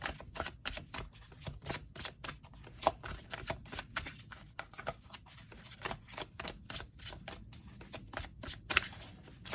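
A deck of tarot cards being shuffled by hand, with a steady run of quick, crisp riffling clicks close up, repeating over several seconds without any talk.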